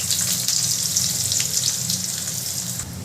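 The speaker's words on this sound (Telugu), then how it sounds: "ఇప్పుడు వేడైన నూనెలోకి ఆల్రెడీ తరిగి పెట్టుకున్న ఉల్లిపాయ ముక్కలు వేసేయాలి." Chopped onion pieces sizzle steadily in hot oil, a loud, close, continuous frying hiss with no voices.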